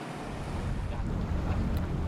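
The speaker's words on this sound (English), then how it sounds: "engines of the other boats, but not ours" Engines of other boats running nearby on open water, a steady low rumble mixed with wind buffeting and the wash of waves, with no talking.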